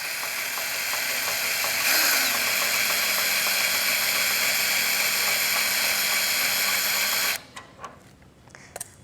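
Power drill turning a camper quick drop stabilizer, a steady loud whirring drone held for about seven seconds before stopping abruptly, followed by a few faint clicks.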